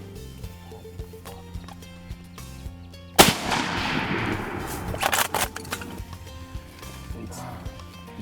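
A single loud gunshot rings out during a hunt, fired at a game animal that has turned to leave, followed by a decaying echo and low rumbling with faint background sounds.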